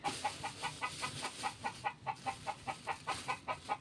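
A chicken clucks in a quick, steady series of short, soft calls, close and fairly faint against a quiet background.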